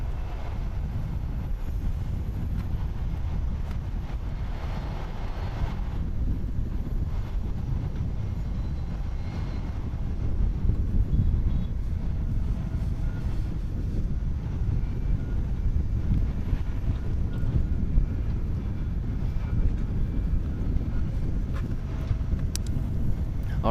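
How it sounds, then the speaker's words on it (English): A Delta Airlines flight arriving at Haneda Airport in Tokyo comes through as a distant, steady low jet rumble and roar, softly swelling and washed by wind noise on the microphone. "with the arrival of Delta Airlines Flight 7"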